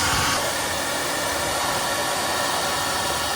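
A hair dryer blows a constant, loud, even whoosh while melting ice inside a Samsung refrigerator freezer, running unbroken from start to finish.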